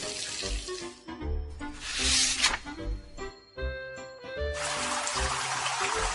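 Water gushes from a garden tap after its top comes off while a hose is attached. It comes as loud hissing rushes in two bursts over playful background music, close and forceful.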